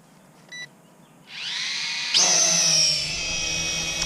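Utoghter Goshawk 69701 quadcopter drone motors spin up from silence during one-button takeoff, a rising high-pitched electric whine that jumps louder and sharper as the drone lifts off, then holds steady, close and alone.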